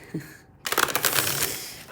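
A new deck of tarot cards being shuffled, a brief crisp burst of riffling and rustling card noise that starts after a short pause and continues close up.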